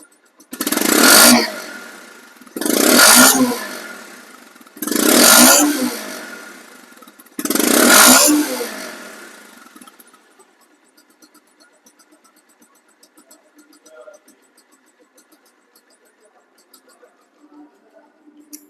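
A Bajaj Pulsar motorcycle engine revs hard four times in an even rhythm, each loud burst rising and falling. Afterward it drops to a quiet, faint idle.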